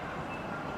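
A train at Ningbo railway station rumbles past as a steady low roar with a broad hiss, continuous and fairly distant, with no voices.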